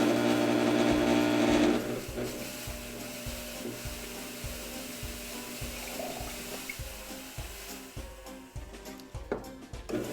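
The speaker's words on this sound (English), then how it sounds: "So first thing you're going to do is just start by adding water to the bowl." Water running into a bowl, a steady louder pour at first that eases into quieter trickling and splashing, with faint rubbing and knocking in a quiet indoor room.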